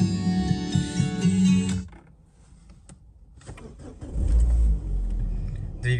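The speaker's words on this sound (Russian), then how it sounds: "Двигатель работает хорошо, ничего не стучит, никаких ошибок не имеет." A 2012 Citroen C4 engine cranks and catches after a brief quiet pause, then settles into a steady low rumble close by, following a short stretch of music at the start.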